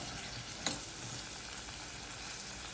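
Mango pieces cooking in a covered pan over low heat, giving a steady soft sizzle throughout with one brief clink near the start; no talking.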